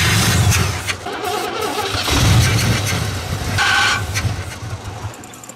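A car engine cranks over and over without catching, apparently out of gas, the starter churning loudly and steadily through the whole stretch with brief uneven surges.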